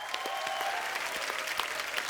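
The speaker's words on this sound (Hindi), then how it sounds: "शिल्पा और राजबाजी के लिए जोरदार तालियां" A studio audience on a Hindi comedy talk show breaks into steady, dense applause, a couple of seconds of sustained clapping filling the room with no voices on top.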